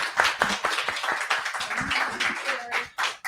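Scattered hand clapping at a neighborhood association meeting, a few people applauding unevenly for several seconds with some light voices mixed in.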